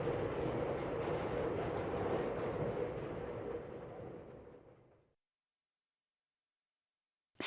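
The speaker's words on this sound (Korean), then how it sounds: "지금 마천행 열차가 들어오고 있습니다." Rumbling subway train arriving at a Seoul metro station on a Macheon-bound line, a steady heavy roar that fades away over several seconds into silence.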